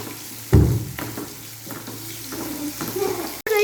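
Crushed ginger and garlic, curry leaves and green chillies are stirred in a pan for a fish pollichathu, opening with a loud knock, then a steady close sizzle and scraping.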